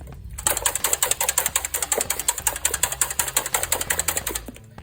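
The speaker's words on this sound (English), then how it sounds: "We're going to whisk them up first" Ten whole eggs whisked in a bowl for quiche, a fast steady rhythmic clicking and swishing of the whisk against the bowl, close and continuous before stopping abruptly.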